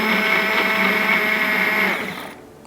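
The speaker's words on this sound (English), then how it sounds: "I like using this handheld blender." A handheld immersion blender whirs steadily while mixing pottery glaze, a loud continuous motor hum that carries on for about two seconds and then cuts off, leaving quiet room tone.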